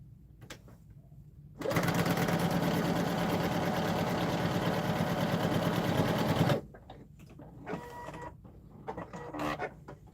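A home sewing machine runs steadily for about five seconds, a loud close mechanical whir of rapid stitching, then stops, followed by quieter handling clicks and rustles.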